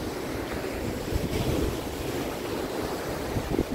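Ocean waves break and wash along Praia de Boa Viagem beach while steady wind buffets the microphone, giving a continuous, rumbling roar with a gentle surge in the middle.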